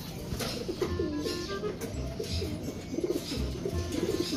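Soft, low cooing of an electrocuted pigeon that cannot stand repeats several times amid a busy background hum, calls rising and falling in short phrases.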